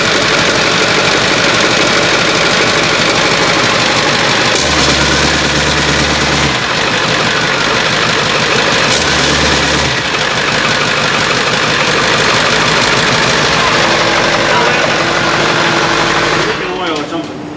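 A 7.3 Powerstroke diesel fitted in a Hilux runs loud and steady with a heavy knocking drone and brief low surges, while people talk over it near the engine.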